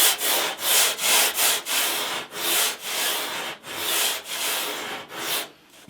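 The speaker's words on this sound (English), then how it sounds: "the 36 grit eats the foam very easily" Steady rasping strokes of 36 grit paper on a hard pad sanding down a foam surfboard blank, a loud rhythmic back-and-forth scrub about twice per second, close up and with no talking.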